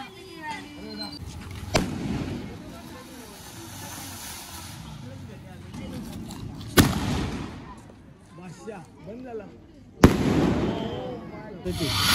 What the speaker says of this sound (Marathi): फटाके फोडून झालेत